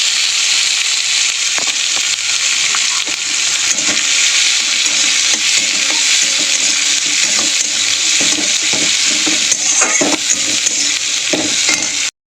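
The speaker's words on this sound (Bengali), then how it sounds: "পেঁয়াজ আর ফোড়নটা ভালো করে ভাজা হয়ে গেছে।" Chopped onion frying in hot oil with dried red chilli and Bengali five-spice, a steady broadband sizzle throughout with occasional stirring scrapes and clicks, close and fairly loud, no talking.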